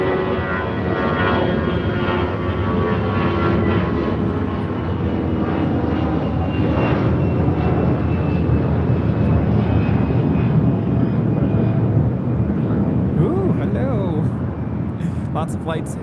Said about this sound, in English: This is Delta 574 taking off to Austin on an A320